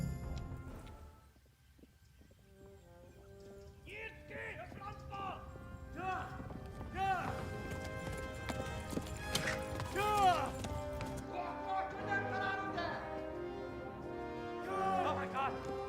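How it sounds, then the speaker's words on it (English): Rhythmic horse hoof clip-clop from Kingdom Come: Deliverance, glitching and looping while riding, steady and fairly close, mixed with game music tones and sounds throughout. "the horse sound is a bug, so this doesn't normally happen"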